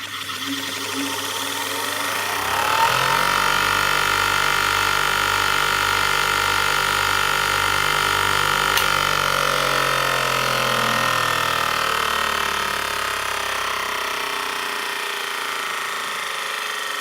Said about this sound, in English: It's got a nice quiet induction motor. It gets up to speed relatively quickly